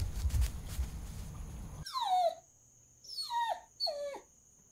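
A dog whimpers in a comic dub sound effect, three drawn-out descending whines following a stretch of low rumbling noise, clear and close with no talking.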